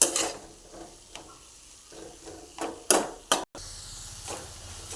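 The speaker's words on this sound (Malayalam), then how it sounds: "ഇനി ഈ തക്കാളി ഒന്ന് വെന്ത് വരുന്നത് വരെ നമുക്കിങ്ങനെ ഇടയ്ക്കിടയ്ക്കൊന്ന് ഇളക്കി കൊടുത്തിട്ട് വേവിച്ചെടുക്കാം." Tomato and onion frying in a pan with turmeric powder, stirred now and then: a steady soft sizzle with bursts of scraping and stirring, close and fairly loud.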